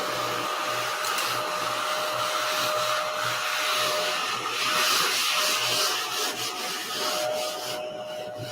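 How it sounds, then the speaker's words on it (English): A small ladybug-shaped vacuum cleaner sucks up dust with a steady whirring motor hum and a soft rubbing, scraping texture as it moves over a surface, continuous and close with no talking. "Let me get my little cute ladybug vacuum."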